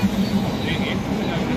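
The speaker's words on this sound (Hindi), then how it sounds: "ट्रेन आ चुकी है" A train rumbles into a railway station with steady low mechanical noise and faint rail clatter, close by and continuous; a little background voice sound mixes in.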